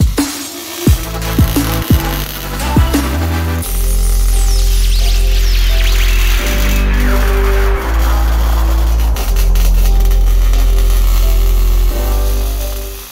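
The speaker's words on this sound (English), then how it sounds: "I'm welding the truss to the axle" An arc welder joins a truss to a truck axle in loud, sustained buzzing and crackling runs, with a few short bursts first and a steady harsh hum for most of the stretch.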